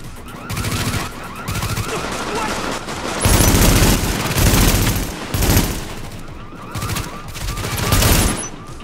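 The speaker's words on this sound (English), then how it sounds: "Gunfire up to the left." Heavy gunfire erupts in The Division beta, a shooter game, with several loud bursts of automatic fire and booming shots rolling one after another and barely pausing.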